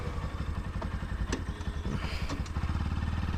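A Bajaj Pulsar NS200 motorcycle engine running close by, a steady rapid low thumping with mechanical clatter and a few sharper ticks, heard alone without talk.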